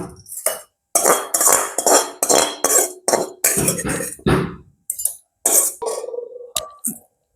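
Fried onion is pounded for sambol in a mortar, a series of dull, close thuds and clinks in irregular quick bursts with brief pauses between them.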